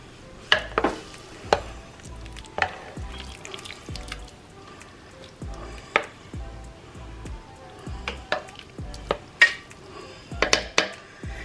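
Ingredients such as sausages and vegetables being added to beans in a pot for Southern beans and rice, with repeated clanks and scrapes of a spoon against the pot in an irregular stirring rhythm, close and fairly loud, with no talk.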